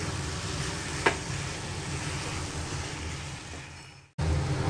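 Ginger-garlic paste fries over a medium flame in a pan, giving a continuous even sizzle. One sharp scrape of stirring breaks in, and the sound briefly cuts out before the frying resumes.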